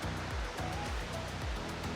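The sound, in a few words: small rain-fed waterfalls flowing beside road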